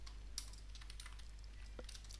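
Quiet keystrokes on a computer keyboard as a command is entered on a router, a handful of sparse clicks scattered over a low steady hum, with no talk.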